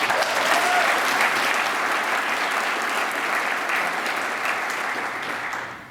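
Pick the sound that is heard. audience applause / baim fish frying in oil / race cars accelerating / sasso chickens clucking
audience applause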